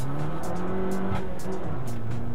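Tires on a 2014 Fiat 500 Abarth squeal in wavering tones as traction control works hard, over a steady engine drone, loud and close for the whole stretch.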